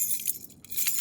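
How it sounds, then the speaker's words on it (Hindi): House keys jangle briefly in short metallic clinking bursts, close and fairly quiet, with no one speaking. "तुम्हारे घर की चाबी भी मिल गई"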